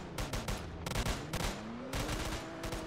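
Rapid bursts of automatic gunfire in the Roblox game Liberty County, crackling in three quick clusters of shots separated by brief pauses, with a faint rising tone running underneath.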